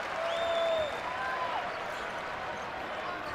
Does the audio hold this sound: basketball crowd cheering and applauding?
yes